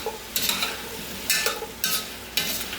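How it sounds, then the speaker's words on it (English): Butternut squash and shrimp being stirred in a pot, with four distinct scraping strokes of a spoon over a soft sizzle, close and clear with no talking. "I want to make sure to give it one more stir"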